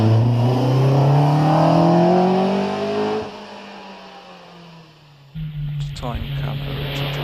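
A race car at the Prescott British Hillclimb Championship roars loudly up to the finish line, engine pitch climbing under hard acceleration before the sound drops away as the car passes, followed by a fainter mechanical clatter.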